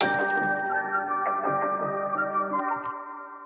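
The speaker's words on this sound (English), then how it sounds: "I also added this glass effect for the intro." A glassy, shimmering tone opens a sad beat, sustained and bright, with a few light clinks and chime-like accents over a steady held texture.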